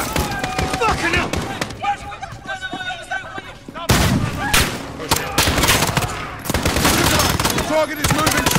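Rapid gunfire from the Call of Duty: Modern Warfare campaign mission The Gloves Are Off, dense bursts and single shots crackling throughout, with a sharp loud volley near the middle and voices shouting under the shooting.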